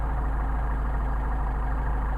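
A Mercedes 190SL fitted with Solex carburetors idles steadily, a low, even engine rumble with a faint high whine running alone throughout.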